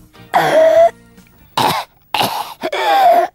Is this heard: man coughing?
yes